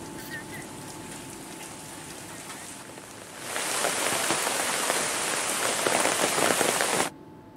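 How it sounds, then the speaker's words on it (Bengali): Light to moderate rain falls during a spell of steady wet weather, a soft patter that swells after a few seconds into a dense, even hiss of drops on surfaces and then cuts off abruptly. "আজও হালকা থেকে মাঝারি ধরনের বৃষ্টি হচ্ছে।"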